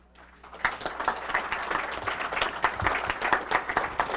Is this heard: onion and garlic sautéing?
no